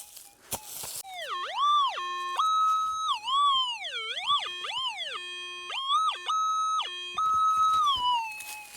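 Metal detector sweeping over a big iron object in a rocky riverbed, giving a loud, warbling electronic tone that bends up and down in pitch through repeated swells, with brief clanks of rocks at the start and end.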